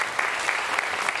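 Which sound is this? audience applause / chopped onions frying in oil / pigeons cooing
audience applause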